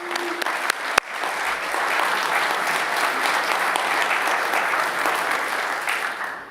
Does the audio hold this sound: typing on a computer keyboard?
no